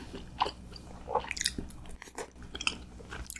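Close, wet chewing of cheese noodle tteokbokki, soft irregular bites and squishy mouth sounds with brief pauses, fairly quiet.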